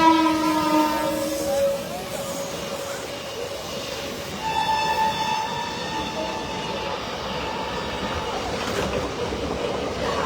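A train at Kurduwadi railway station sounds its horn in long sustained blasts amid the rumble of the rail cars and a crowded platform, with faint voices in the background.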